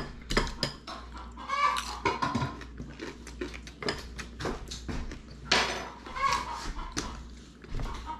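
A chicken clucking close by in a rural home, with irregular clucks amid clinking dishes and pots and occasional nearby voices.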